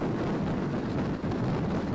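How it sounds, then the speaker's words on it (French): Strong wind roars and buffets the microphone in a steady, loud, low rumble for the whole stretch, with no voices. "le vent par contre c'est terrible."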